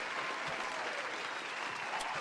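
A faint, steady round of applause, a crowd clapping continuously at low level throughout with no distinct voices.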